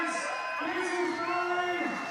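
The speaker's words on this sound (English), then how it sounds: "The crowd is lighting up" A crowd cheers and whoops at an outdoor BMX freestyle park contest in Edmonton at sunset, heard as a steady roar beneath a commentator talking over it.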